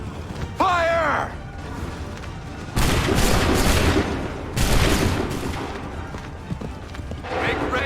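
Musket volleys fired on command in Assassin's Creed 3, with two loud, broad crackling bursts that ring on and a third starting at the end, separated by shouted commands and background battle noise.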